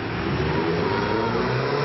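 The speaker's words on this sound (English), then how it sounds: "he races his modified Subaru nearly every weekend night" A modified Subaru drift car's engine holds a steady, loud droning tone during desert drifting, with no clear revving peaks over the short span.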